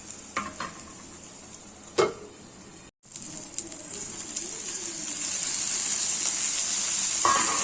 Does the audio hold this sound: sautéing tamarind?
yes